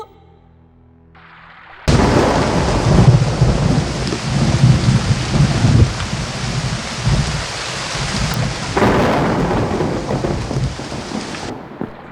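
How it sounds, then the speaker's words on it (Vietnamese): Heavy rain pours steadily with deep thunder rumbling through it, starting suddenly after near-silence and holding loud and dense before cutting off near the end; no voices. "hôm đó là một đêm mưa gió."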